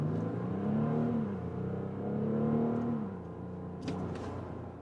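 A 2027 Audi Q7 with a 3.0-litre, 300 hp diesel engine accelerates from 0 to 80 km/h, its engine note rising steadily through the gears with a smooth, close-miked rumble and brief dips at the shifts, without any talking.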